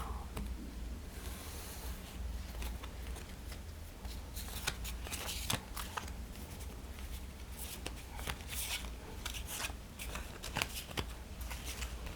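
A deck of cards for a board game is shuffled softly and continuously up close, a papery riffling and sliding texture with occasional sharper snaps, quiet and without talk.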